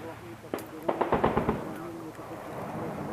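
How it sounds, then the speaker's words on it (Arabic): Barrel bombs dropped by helicopters strike Jebel Dorein in rural Latakia, heard as a quick cluster of sharp, rapid blasts rolling together at a distance over faint background noise, with voices briefly present. "قصف بالبراميل المتفجرة التي تلقيها الطائرات المروحية."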